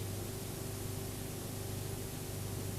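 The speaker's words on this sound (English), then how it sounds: "In a blast cleaning plant, the steel is bombarded by high-speed particles of shot or grit" Steel bombarded by high-speed shot or grit in a blast cleaning plant, a dense, unbroken hiss with a low industrial hum beneath, steady and loud for the whole stretch.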